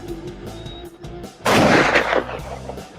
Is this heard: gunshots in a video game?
yes